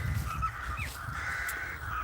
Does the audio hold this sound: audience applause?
no